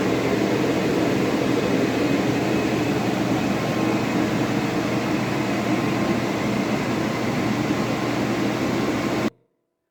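Floor blower machine used to dry wax runs with a steady, loud whooshing drone that holds constant for about nine seconds, then cuts off abruptly.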